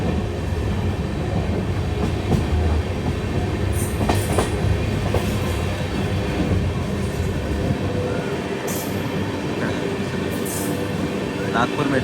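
A Nagpur Metro train passes in a steady, loud, continuous rumble with faint rail clatter throughout.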